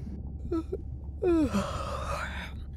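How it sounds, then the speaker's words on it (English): A soft breathy intake followed by a drawn-out, rising-then-falling yawn with a voiced groan, fairly close and quiet. "Was that a yawn?"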